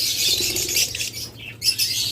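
Caged pet budgerigars, cockatiels and lovebirds beat their wings in bursts of close, rustling flutter, with short squawks and chirps mixed in and no talking.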